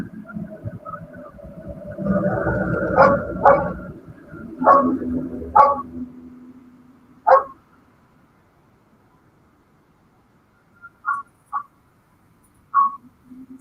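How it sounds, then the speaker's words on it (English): Several dogs barking around a town, a cluster of sharp barks in the first seven seconds, then a quiet gap followed by a few more distant, fainter yips near the end. "all the dogs around this town start barking"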